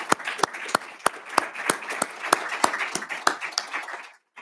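A small audience claps for a Petty Officer at a military awards ceremony. The claps are distinct and fairly regular, close and moderately loud, and stop abruptly at the end.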